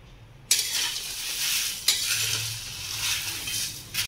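Garam masala spices are lightly dry-roasted in a pan, giving a soft rustling hiss as they are stirred, with sharp clinks from the utensil against the pan at the start, in the middle and at the end.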